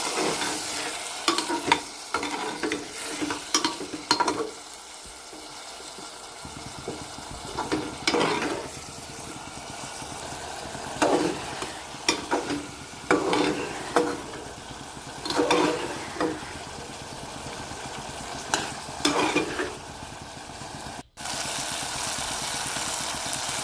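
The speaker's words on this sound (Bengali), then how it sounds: "বিন, টমেটো কুচি দিয়ে এর উপর জল ঢেলে ভালো করে নাড়িয়ে নিতে হবে" Beans and chopped tomato with water are stirred in a pan, repeated spatula scrapes and clatters over a soft, steady sizzle, with one brief dropout near the end.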